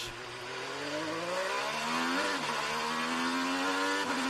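A Honda IndyCar launches onto a qualifying lap at the Long Beach street circuit, its engine a sustained, fairly close high-pitched whine that climbs steadily in pitch with a brief dip around a gear change.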